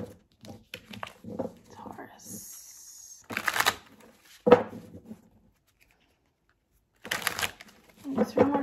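Several bursts of tarot cards being shuffled, quick riffling flurries separated by pauses, with soft speech between them.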